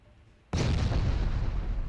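Naval gunfire from warships in Ultimate Admiral Dreadnoughts, a loud sudden boom after a moment of quiet that rolls on as a sustained, dense rumble of broadband blast noise.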